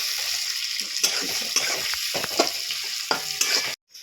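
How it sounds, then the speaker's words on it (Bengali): Onions, carrots and beans frying in a kadai for Bengali chow mein, stirred steadily with a spatula that scrapes and taps the pan over a continuous close sizzle, cutting off abruptly at the end. "এখন আমি নাড়তে থাকি।"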